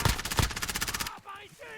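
Rapid automatic gunfire in the video game Warzone, a fast close burst of evenly spaced shots lasting about a second, followed by a brief stretch of voices.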